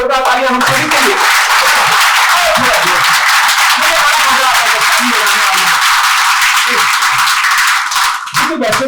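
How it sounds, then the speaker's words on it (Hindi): Audience applause at a Hindi-language business coaching seminar, a dense sustained wash of many hands clapping for nearly nine seconds, loud and steady before briefly dipping near the end. "एक बार जोरदार तालियां हम सभी के लिए"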